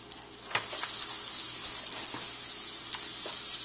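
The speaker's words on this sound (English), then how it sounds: "You can hear it sizzling there." Steady hissing sizzle of a sandwich cooking in a George Foreman panini press, with a few faint clicks and pops.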